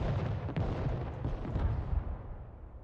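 Mortar fire in the strategy game Broken Arrow, a low rumbling boom with a short crack near the start, muffled and moderately far off, then a fading tail.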